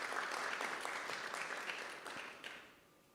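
An audience at an arts conference in Kenya applauds to welcome a speaker, giving sustained clapping from a crowd at moderate distance that gradually fades out.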